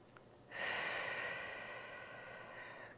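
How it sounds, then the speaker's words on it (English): A single deep diaphragmatic breath drawn in during a prenatal and postnatal breathing exercise, beginning after a brief pause, close and airy, then easing off slowly as it continues. "let's take a deep breath together"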